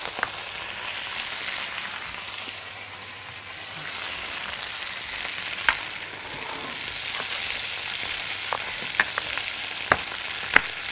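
Garlic frying in a pan sizzles loudly and continuously up close, a steady crackling hiss with a few sharper pops toward the end and no talking.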